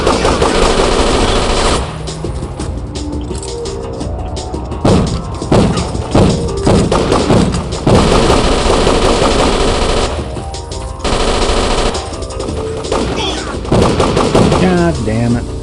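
Video game gunfire sounds in loud rapid automatic bursts, with thuds and impacts, filling a dense, continuous battle soundscape.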